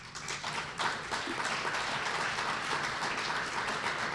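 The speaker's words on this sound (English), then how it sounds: "Thank you for clapping periodically," Lecture audience applauding, a steady wash of many hands clapping at moderate distance, sustained and fairly even without speech over it.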